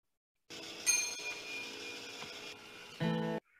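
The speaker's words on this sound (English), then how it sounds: "introduce the idea of music actually through the ringing of the gas pump" A bright bell-like ding from a gas pump bell rings out and sustains, with a louder metallic clang near the end, fairly close and clear with no talking.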